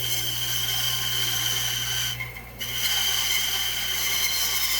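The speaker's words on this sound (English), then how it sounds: "I'm going to cut off the uneven top part with the bandsaw." A bandsaw cuts the uneven top off a resin piece, giving a steady, high, whining drone with a low motor hum underneath. Partway through, a brief dip suggests a change in the cut before the loud, even whine resumes.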